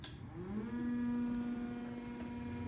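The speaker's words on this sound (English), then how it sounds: "we go to the backward gear, reverse gear, and later we'll see the motor go into another direction." A Rawsuns RSTM262-J electric drive motor for a 3-ton SUV, running in reverse gear, gives a loud tonal whine that climbs in pitch over about half a second and then holds steady and continuous. No one talks.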